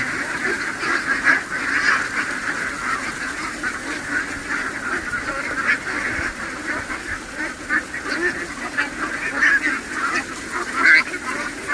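A flock of ducks on a rural duck farm being fed rice paddy keeps up a continuous chorus of quacking and honking calls, moderately close and layered, with no talk over it.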